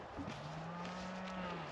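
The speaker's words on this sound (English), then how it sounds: "those cattle over there are causing a bit of a ruckus" Cattle on an Australian sheep farm giving a single drawn-out moo, clear but somewhat distant and faint, with a quiet outdoor background.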